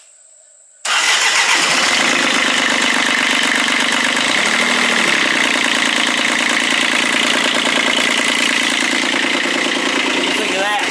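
A Jaguar car engine starts after a brief quiet moment and settles into a loud, steady idle that continues to the end, close by, with plugs heated by a broken resistor.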